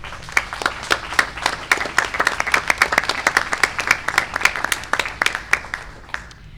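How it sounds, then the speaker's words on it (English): Scattered, sharp individual claps from a modest audience at a state board of education meeting ring out in a loose rhythm, fading toward the end. "And I think that needs a round of applause."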